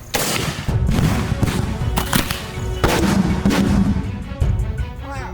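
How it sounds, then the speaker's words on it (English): A 40 mm tear smoke shell fired at a BSF academy demonstration in India, several sharp booming reports amid loud outdoor rumble and clatter, close and forceful, with a fading whistle at the end. "Manufactured this 40 mm tear smoke shell, which has a range of 250 meters."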